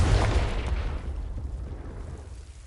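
A Confringo blasting spell goes off in a Hogwarts video game, a deep booming explosion that hits hard at the start and then rumbles and fades over a couple of seconds.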